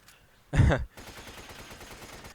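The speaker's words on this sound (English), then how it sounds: "you get the AK-74 machine gun. Go ahead and equip it if you want. Maybe shoot a couple shots off" A short, loud burst of AK-74 machine-gun fire in Resident Evil 5, about a third of a second of rapid shots, followed by a lower, steady rumble.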